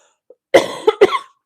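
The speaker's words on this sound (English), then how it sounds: "Sorry for coughing in your ear." A person coughs three times in quick succession, close and fairly loud, in an otherwise quiet room.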